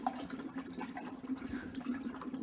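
Carbon dioxide forced through water in a distillery bucket, giving a continuous low bubbling and gurgling with steady pulsing blips, close and moderately loud, with no voices.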